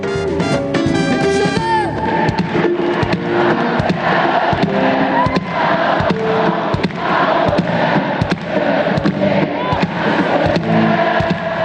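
Festival crowd at the opening of the 26th Printemps de Bourges cheers and shouts continuously over music, with a dense, loud wash of voices and sharp bursts throughout.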